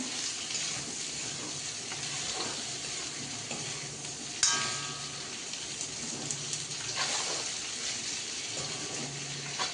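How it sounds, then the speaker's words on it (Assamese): Broiler chicken dry frying in a pan without water, a continuous moderate sizzle with occasional stirring clinks and scrapes and one sharp knock, no talking. "এনেকৈ যদি শুকানকৈ প্ৰথমতে ভাজি মেলি লোৱা হয়"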